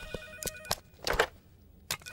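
Telephone ringing in the next room, a faint, muffled ring in short bursts separated by quiet gaps.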